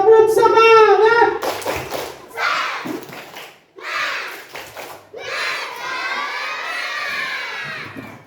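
Primary school children in a classroom shout a rhythmic spirit clap chant together, with loud bursts of voices and claps in short phrases separated by brief pauses.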